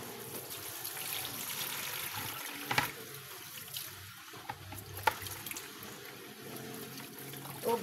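Running tap water splashes and trickles as moringa (malunggay) leaves are washed in a sink, a steady faint flow with a few small splashes and clatters, no talking.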